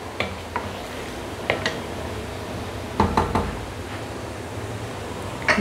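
Chicken korma with potatoes for Sindhi biryani is stirred and fried in a pot, with clanking knocks of a spoon against the metal at irregular intervals over a soft sizzling background.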